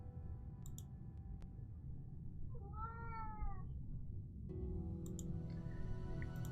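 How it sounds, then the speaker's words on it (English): An indoor cat meows once for attention, a short clear cry rising and falling in the middle of steady low background hum, with faint clicks around it and no talking. "You have a cat that wants attention."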